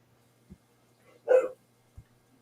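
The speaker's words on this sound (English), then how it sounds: "who's barking?" A single loud dog bark, sharp and close, standing alone between faint low thumps in an otherwise quiet room.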